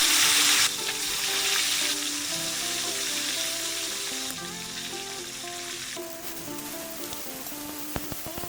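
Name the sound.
frying fish in a pan while camping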